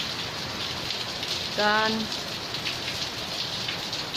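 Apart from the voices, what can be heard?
rain falling during the flood in Coraki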